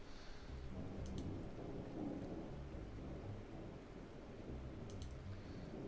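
Steady rain and rolling thunder from a thunderstorm in a Five Nights at Freddy's-style fan game, a constant low rumble with heavy rainfall throughout and faint brief clicks near the start and end.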